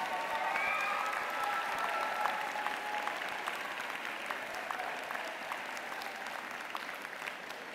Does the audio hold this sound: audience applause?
yes